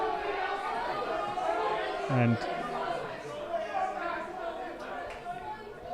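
Small crowd at a Cork senior football championship Gaelic football match between St Finbarr's and Ballincollig at Páirc Uí Rinn, a steady murmur of chatter and scattered voices under a commentator's talk.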